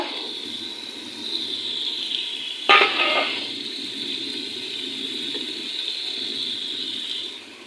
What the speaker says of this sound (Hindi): तो लास्ट में मैं इसके अंदर डालने लगी हूँ गरम मसाला